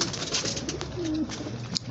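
A pigeon coos close by in a brief low call amid faint background sounds.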